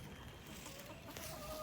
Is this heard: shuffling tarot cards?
no